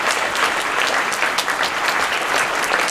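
Steady audience applause fills a campus open forum, dense clapping from many hands holding even and fairly loud throughout with no voices over it.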